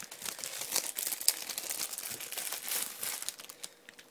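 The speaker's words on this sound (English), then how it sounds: "Sorry about the rustling and everything." Plastic merchandise packaging for Death Note items being crinkled and torn open up close, a continuous busy rustle with sharp crackling bursts and no talking.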